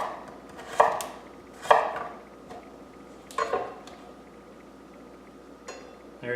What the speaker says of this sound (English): Keep on going, cut the next half.